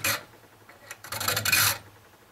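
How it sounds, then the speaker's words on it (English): Pole saw teeth being sharpened with a 7/32 file, heard as close, raspy filing strokes: a short stroke, a pause, then a longer sustained rasp. "I'm going to go ahead and hit this a little bit more with the file, the 7/32 file."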